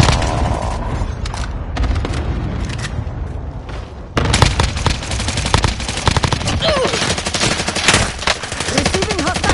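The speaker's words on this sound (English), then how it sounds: "Receiving hostile fire." Dense video game gunfire as an enemy opens up on the player: rapid automatic bursts and heavy booming shots, loud and close, nearly continuous, with a short lull before sharper volleys resume.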